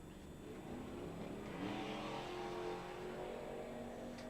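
Drag racing cars, a Barracuda and a Monte Carlo, at a bracket race at Western Colorado Dragway, with a steady engine roar heard from a distance, swelling slightly midway and then holding.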